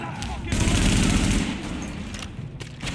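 A gun fires in Tom Clancy's The Division: a loud rapid burst of automatic gunfire for about a second, then fading shots and echoes, with someone talking over the game.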